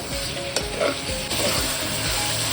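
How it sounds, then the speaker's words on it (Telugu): Quarter kilo of mutton pieces frying in a pan for Andhra-style tomato mutton curry, a steady close sizzle with a few stirring scrapes and clinks, no voices. "పావు కిలో మటన్ కూడా వేసేసుకున్నాం కొంచెం ఒక్క టూ మినిట్స్ దీన్ని ఫ్రై అవ్వనిద్దాం"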